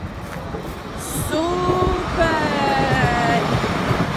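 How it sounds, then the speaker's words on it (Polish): A tram rumbles past nearby with a steady low roar and a faint metallic squeal, while a person briefly speaks over it. "O, jedzie tramwaj."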